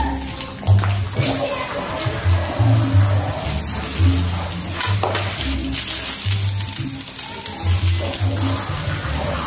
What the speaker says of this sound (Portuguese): Já tem a mangueira que tá ali, já vou usar ela pra enxaguar tudo isso aqui